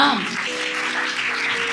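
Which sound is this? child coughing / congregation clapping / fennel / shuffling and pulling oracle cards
congregation clapping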